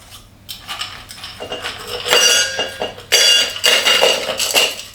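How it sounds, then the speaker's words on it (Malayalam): Ice cubes dropped into a cocktail glass while mixing a rum cocktail, a run of close, bright clinks and rattles that builds in bursts, with no talking. "നമുക്ക് ഐസ് ഇടുക."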